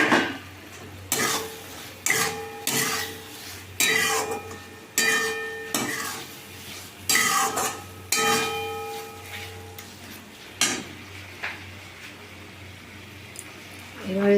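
Mutton curry with spices is stirred in a pot, with a repeated rhythm of metal spoon scrapes and clanks against the pot over a faint sizzle, the strokes coming in regular bursts before thinning out.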